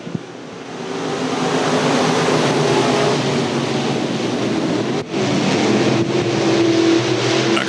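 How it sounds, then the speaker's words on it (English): Modified race cars roar around the dirt oval at Thunder Hill in a 2014 heat race, a dense sustained engine drone that swells as cars pass close by, steady and loud with slight pitch shifts throughout. "Grabowski making short work on the high side as he shoots by several cars here on lap number one"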